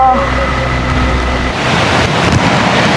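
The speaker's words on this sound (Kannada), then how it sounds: "ಅಬ್ಬಾ ವಾಟರ್ ಫಾಲ್ಸ್ ಓಹ್ ಏನು ಭಯಂಕರವಾಗಿದೆ ನೋಡಿ" Hidlumane waterfall in the Malenadu forest of Karnataka: a loud, continuous broadband roar of rushing water, close and dense, mixed with buffeting wind on the microphone.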